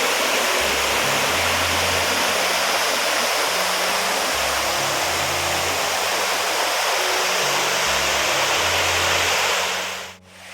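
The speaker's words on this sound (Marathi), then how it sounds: "आत्ताच तुम्ही तो बघितला तो आहे लहान वॉटरफॉल" A small waterfall at Chirma Devi near Thane rushes in a loud, steady, close wash of falling water that continues unbroken until it cuts off near the end.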